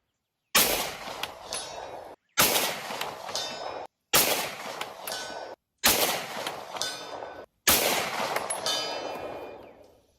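Five loud Beretta M9A4 pistol shots fired at a target 200 yards away, each a sharp crack with a ringing tail, spaced about every second and a half with brief silences between.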